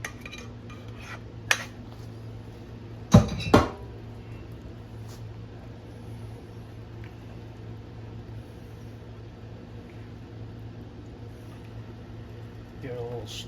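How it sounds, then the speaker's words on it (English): Dishes and cutlery clatter during washing up in a home kitchen, a few sharp clinks and knocks, two louder ones close together, over a steady low hum with quiet stretches between. "Got a whole bunch of dishes to do."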